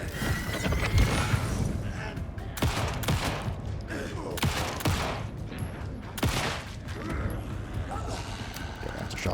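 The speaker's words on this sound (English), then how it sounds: "I have to shotgun a bit now" Shotgun blasts in Alan Wake 2, Lake House DLC, fire as several loud, sharp, irregularly spaced bursts against continuous game noise.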